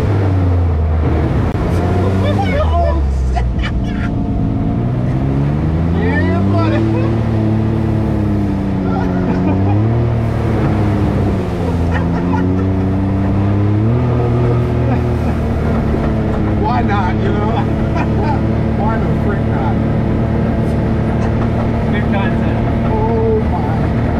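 A Can-Am X3 MAX side-by-side drives a trail between Leota and St. Helen, Michigan. Its engine rises and falls repeatedly through revs as it rolls along, under constant wind and rumble, with some voices.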